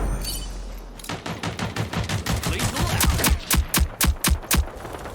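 A flame weapon fires in the shooter game Rogue Company, giving a series of loud, sharp bursts that come faster and harder as it goes on, close and with no voices.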